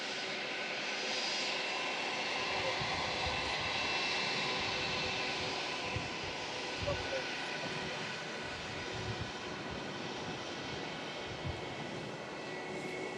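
British Airways Airbus A319 jet departing Manchester Airport, a steady broad engine roar held throughout at moderate distance, with faint chatter and occasional bumps mixed in.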